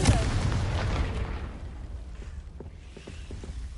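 A Confringo fire spell blast in the video game Hogwarts Legacy: one loud booming explosion hits at once, then fades into a long, low rumbling tail with faint crackles.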